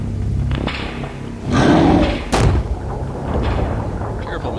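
Fire bolt spells cast in the fantasy role-playing game Geneforge 4, heard as a couple of dull thumping blasts with a whooshing burst, set among game effects and a voice talking over them.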